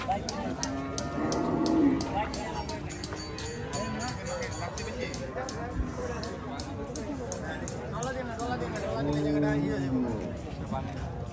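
Cattle at a livestock market low a couple of times, long drawn-out moos rising over a busy crowd's steady chatter and background bustle.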